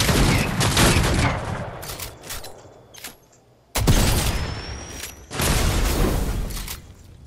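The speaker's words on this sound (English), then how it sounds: "I'm going to throw it in. And I'm going to shoot at it." Weapon fire aimed at an anomaly in Fortnite comes in loud dense bursts, several thick blasts separated by short quiet gaps.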